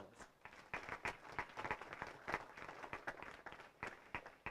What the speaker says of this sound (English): So let's have a round of applause for all of our panelists.